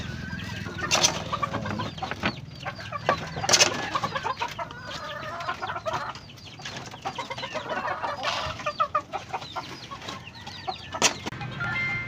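Several chickens cluck and squawk near by, bursts of sharp calls over a busy background of softer clucking.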